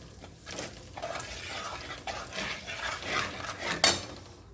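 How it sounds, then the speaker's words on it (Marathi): Fish being stirred in a metal pan with turmeric and red chili powder, giving close scraping and clinking of a spoon against the pan in an irregular run, with a sharper knock near the end. "तर आपण हा काही हलवून घेऊ"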